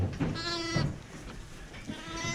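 Sheep and lambs bleating inside a sheep barn on a livestock farm, several wavering calls overlapping close by, with one long quavering bleat standing out early and more calls following.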